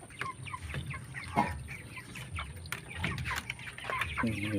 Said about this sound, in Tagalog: Ayan yung ating sisiw. 2 weeks na to.